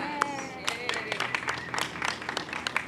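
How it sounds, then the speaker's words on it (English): Scattered applause from a small press conference audience outdoors at a new GREENbike bike share station at Artspace in Salt Lake City, uneven claps close by with a voice carrying through underneath. "Let's give them a round of applause as well"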